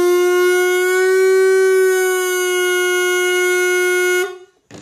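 A homemade PVC train horn blows one steady, loud harmonic tone with a strong fundamental and stacked overtones, holding for about four seconds before cutting off abruptly.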